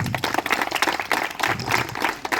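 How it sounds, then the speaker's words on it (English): A small group claps steadily, a brief patter of applause with no talking. "a round of applause from all of us"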